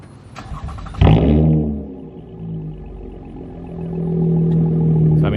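A 2021 Toyota Camry TRD with muffler and resonator deleted starts up and idles, its exhaust opening into a loud, throaty rumble that settles into a steady drone and swells again near the end.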